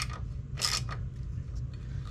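A wrench tightens a footboard mount on a Harley-Davidson Road Glide, giving one short, faint burst of mechanical ratcheting clicks against quiet background noise.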